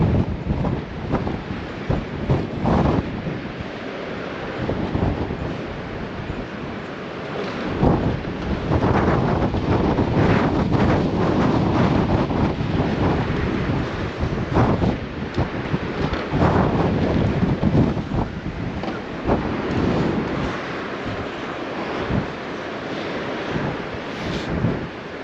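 Strong winds roar continuously across Blackpool promenade by the casino, buffeting the microphone in loud gusts with a steady broadband rush throughout.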